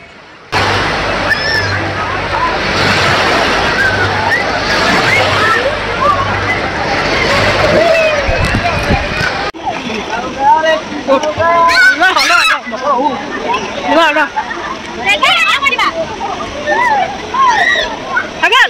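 Wave pool waves surge and splash at the Accoland water park in Guwahati, a loud continuous rush of churning water with crashing bursts, and people shouting and talking nearby.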